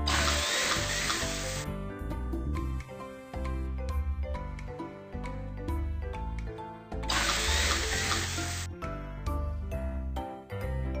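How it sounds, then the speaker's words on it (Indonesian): Cartoon game drill boring holes into ice while fishing, two bright whirring bursts of drilling set over continuous cheerful background music. "Pertama-tama, bor beberapa lubang di atas es."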